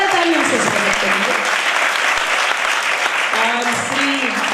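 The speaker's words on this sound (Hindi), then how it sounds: "जोरदार तालियों से स्वागत करेंगे" A live audience at a Kanya Gurukul event in Sasni claps loudly and steadily to welcome a guest, a Supreme Court lawyer, with voices and murmuring mixed into the dense applause throughout.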